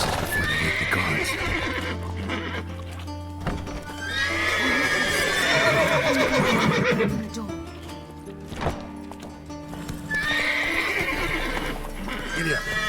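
Horses whinny and gallop in The Witcher 3, with loud neighs and quick clip-clopping hooves layered over game music and effects. Game characters talk through parts of it.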